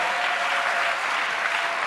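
A church congregation applauds, a dense, even burst of clapping filling the room for a moment without any distinct voices.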